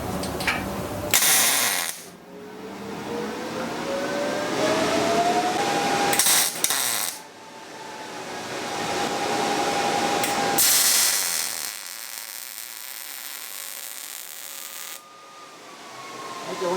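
A Miller Multimatic 220 AC/DC welder laying a bead, producing a loud, sustained buzzing crackle in several long stretches with short breaks between them, heard close and alone.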